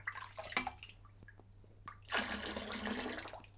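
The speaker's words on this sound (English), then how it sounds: "And you pour it out. Now that water's disgusting." Water poured out of a ladle into a sink while washing up leftover soup, a sudden steady splashing gush after a few faint clinks and drips.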